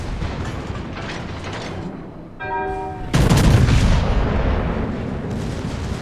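A naval gun salvo in a warship video game: a mechanical whirring tone precedes a sudden heavy boom that rolls into a sustained loud rumble, over steady battle noise.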